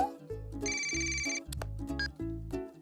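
A cartoon telephone rings with a bright electronic bell trill over light background music, bursts repeating in a quick rhythm, fairly quiet in the mix.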